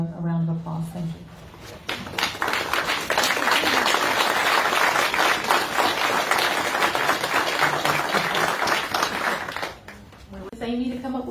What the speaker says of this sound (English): we could just stand and give a round of applause